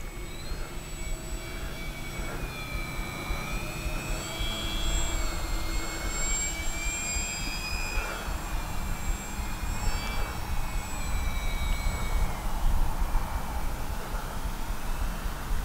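Avios Albatross V2 RC flying boat coming in to land without flaps, a steady high electric motor whine with shifting pitch over constant wind and ambient rumble, continuous and moderately distant.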